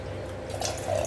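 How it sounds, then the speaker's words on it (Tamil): Water is poured into a pot of rice for a one-pot tamarind-gravy rice, a steady close splashing and gurgling that swells slightly toward the end. "அஞ்சு கப் தண்ணி ஊற்றிக்கலாம்"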